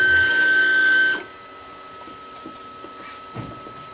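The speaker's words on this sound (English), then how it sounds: "The machine will start printing the test square as soon as the hot end hits 200 degrees" An Anycubic Mega 3D printer starts printing a test square. A steady, high-pitched motor whine drops after about a second to a quieter hum, with faint, sparse mechanical ticks.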